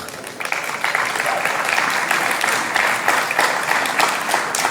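Audience at a proptech start-up keynote conference applauds steadily as a co-founder is welcomed onto the stage, a dense, even wash of clapping lasting the whole stretch.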